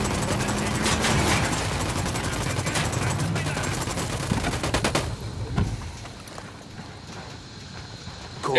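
Rapid gunfire crackles through a Ghost Recon Wildlands firefight, dense bursts of shots over a busy mix for about five seconds before dropping to quieter background sound.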